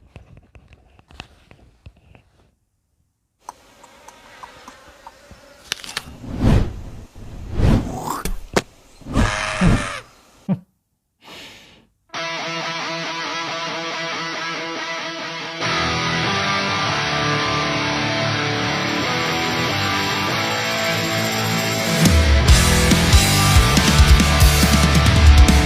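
Hard rock song bursts in loud and dense about halfway through, after scattered knocks and handling noises, then plays on steadily with heavy low end building toward the close.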